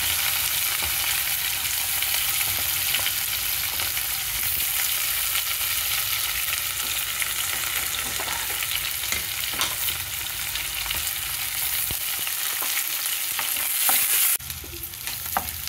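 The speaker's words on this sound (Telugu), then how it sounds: "ఇందులో ఉల్లిపాయలు చిక్కగా ముక్కలు వేసేసుకున్నాం." Thick-sliced onions fry steadily in a hot pan with curry leaves for a drumstick curry, a loud continuous sizzle with occasional stirring scrapes throughout, no talking.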